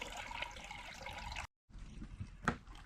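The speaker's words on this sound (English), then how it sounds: "we're going to let that water drain out of the rinse out of that lucky shirt" Rinse water drains out of a hand-cranked Wonder Washer with a lucky shirt inside, a faint trickling gurgle that cuts out briefly, then resumes with a small splash.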